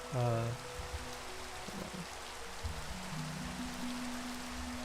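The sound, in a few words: rain in the video game Minecraft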